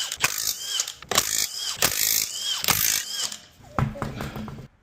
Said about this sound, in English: Now we're going to go ahead and pull off the lug nuts.